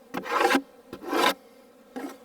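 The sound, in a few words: hive tool scraping out a beehive frame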